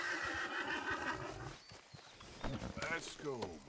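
A horse in the Red Dead Redemption 2 video game whinnies and neighs near the start, followed by hoof clops and movement as someone talks over the game sounds.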